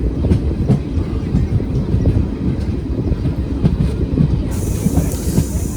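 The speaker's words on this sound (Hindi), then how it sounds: "नरेला पहुंच रही है अपनी ट्रेन।" The 14508 Fazilka Delhi Intercity Express pulls into Narela with a steady, close rumble of rolling carriages and rhythmic wheel clatter over the rail joints, and a faint high squeal creeps in toward the end.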